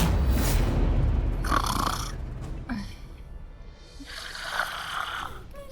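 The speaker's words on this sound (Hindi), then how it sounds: "फिर ये खर्राटे की आवाज कहाँ से आ रही है?" A person snoring while asleep indoors in a TV drama scene, with a few loud, rasping breaths spaced a couple of seconds apart over steady background noise.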